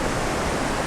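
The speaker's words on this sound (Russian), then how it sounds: "Ну я напоследок хочу показать все-таки этот масштаб водопада," Iguazu Falls in Argentina roars as a massive waterfall, a dense, steady broadband rush of falling water filling the whole second at constant loudness, with no voices.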